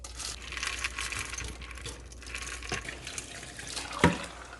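Pumpkin seeds being rinsed under a running kitchen tap, a steady broadband splash of water over a colander with a brief sharp clink near the end; no talking.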